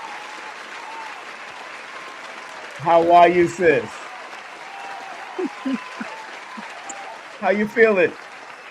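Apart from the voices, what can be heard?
audience applause welcoming a speaker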